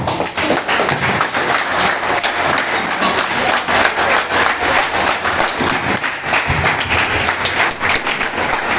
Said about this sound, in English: Please let us all be on our feet and keep clapping our hands together for our Father.